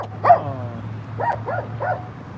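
A dog barks once sharply, then gives three shorter yelping barks, moderately close, over a low steady hum at a sheriff's homeless sweep.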